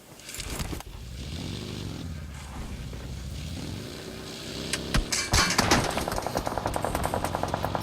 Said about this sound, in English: shots are now being fired towards Arj, who is driving straight for team number 10